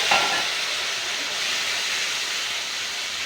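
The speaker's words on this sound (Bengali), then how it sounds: "এবার ওই তেলে সামান্য হলুদ, মরিচ এবং সামান্য পরিমাণ জল দিয়ে" Turmeric, chili and a little water hitting hot oil, a loud, steady hiss of sizzling throughout, close up with no voices.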